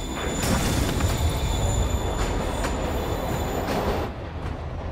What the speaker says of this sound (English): train is moving. Lee's getting away.